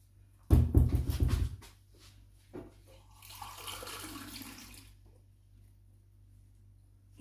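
Water pours from a tap into a measuring cup in a home kitchen while making fig jam, a loud burst of running water followed by softer trickling and filling sounds, then quiet.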